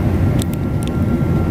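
Airplane cabin noise in flight: a loud, steady low engine and air roar that fills the space, with a few faint clicks over it.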